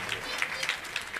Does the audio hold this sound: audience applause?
yes